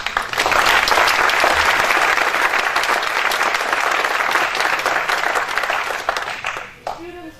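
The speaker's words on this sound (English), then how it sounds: "So I'd like to have a big warm of applause for Wojtek Masny." An audience at a school history day event applauds after a talk by Wojtek Masny, a loud, dense and steady burst of clapping from a full room that fades out near the end.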